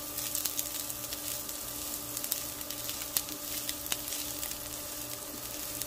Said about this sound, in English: We're just gonna saute all the vegetables right quick.